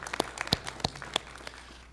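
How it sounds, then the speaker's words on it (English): Sparse, light audience applause at a community violence-prevention meeting: scattered individual claps ring out at close range, then thin out and fade within a couple of seconds. "give them a round of applause"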